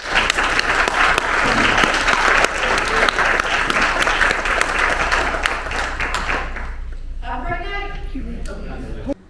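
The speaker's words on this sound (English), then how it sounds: "can you get a round of applause for the city of Miamisburg and the Miamisburg Historical Society who put this on" Applause fills the Plaza Theatre in Miamisburg, Ohio at a film premiere, a loud crowd clapping for about seven seconds before it fades and a voice starts talking.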